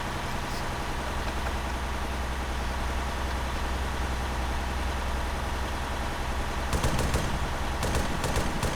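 Automatic weapons firing in the military video game ArmA 3, a rough continuous din of distant gunfire with sharper bursts of rapid shots toward the end, no voices heard.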